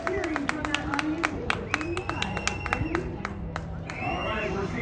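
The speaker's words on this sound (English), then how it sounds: "we are hearing cheering from that audience" Audience at a motorcycle trials event, the 2025 NorCal BMW English Trials, cheering and clapping from a distance amid crowd chatter, with sharp intermittent claps and engine-like whines under talking voices.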